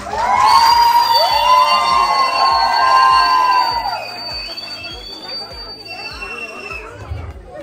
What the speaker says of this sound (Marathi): मुलाकडच्यांनी जोरदार टाळ्या आणि शिट्यांचे आवाज येऊ द्या